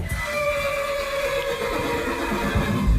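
A horse neigh sound effect for a radio jingle: one long sustained whinny with a wavering tone that fills the clip, loud and close, with a low rumble at the end and no speech.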